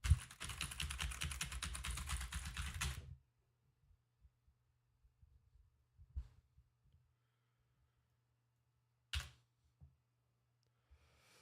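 Rapid typing on a computer keyboard, a dense burst of close, steady key clatter for about three seconds before it stops, leaving quiet hum and a few scattered soft clicks.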